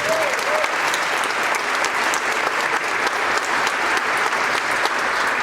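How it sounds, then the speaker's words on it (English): Sustained, even applause from a crowd at the Flint & Genesee Group annual meeting, thanking a community team; many hands clapping steadily and fairly close, with no speech over it. "Please give our team a round of applause"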